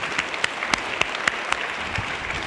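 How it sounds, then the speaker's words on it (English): A small group claps for a couple of seconds, scattered hand claps rising and falling, fairly close, with no voices. "Go on, you can clap."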